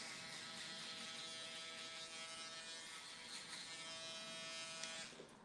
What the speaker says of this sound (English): so I'm gonna use this trimmer